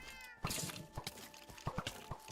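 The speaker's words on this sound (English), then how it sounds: "Cats are trying to attack for me. Thanks, kitties." Cats meowing in the video game Minecraft, several short mews in quick succession, fairly faint, with a soft musical tone beneath and no talking.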